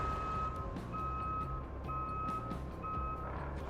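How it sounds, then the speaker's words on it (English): A truck in the Roadcraft video game beeps steadily while reversing, the regular tones quiet over a low engine rumble, with no talk. "Put you in gear so we don't have to listen to the beep."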